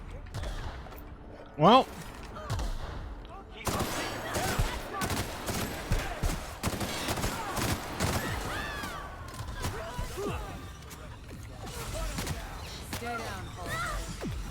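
Gunfire in The Outer Worlds, a fast burst of shots and clattering impacts under game music and voices, with people talking over the fight.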